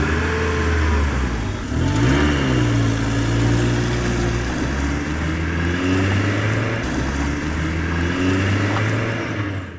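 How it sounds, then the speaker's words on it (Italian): A toy car engine revs and idles loudly and steadily, with rising and falling engine pitch sustained throughout and no speech. "Questa è una macchina di sabbia."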